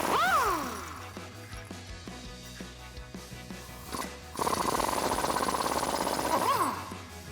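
A 10mm socket tool works the brake line bracket bolt on the frame of a Jeep Wrangler JK. A whirring pitch rises and falls near the start, then a loud, harsh rattling buzz runs for about three seconds before winding down.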